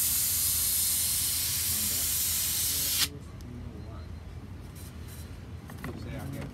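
Spray paint hisses loudly and continuously around a stencil on a shirt, then cuts off abruptly partway through, leaving quieter room noise and a few faint handling sounds.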